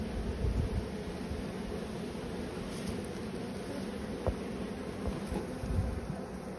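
Steady, close buzzing of many honeybees at a hive over soft rustling, continuous and fairly quiet with no voices.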